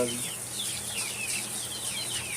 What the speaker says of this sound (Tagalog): Ating mga native chicken.